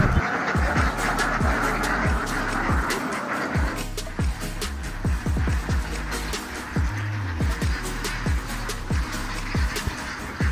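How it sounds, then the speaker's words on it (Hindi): A flock of nearly 10,000 ducks in a village quacks in a busy, overlapping chorus, close by and continuous, with repeated honking calls throughout. "आप लोग देखिए कितने सारे बत्तख है"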